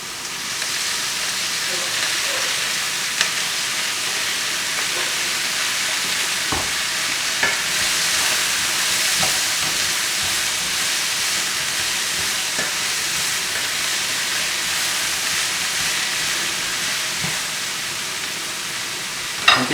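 Vegetables sizzle steadily in oil in a pan, a loud continuous hiss broken by occasional stirring scrapes and clicks, with no talk over it.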